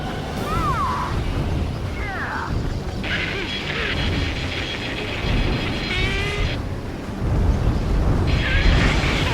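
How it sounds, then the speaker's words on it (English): Explosions in the aerial combat video game Ace Combat 7 as a rail cannon is destroyed: a sustained roaring rumble with bursts and crashes, mixed with high whistling and screeching game effects throughout. "Confirming explosions."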